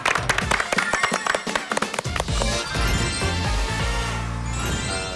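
An audience at a church lecture talk show claps briskly in a dense burst to welcome a pastor, the applause fading after a couple of seconds as sustained music swells underneath.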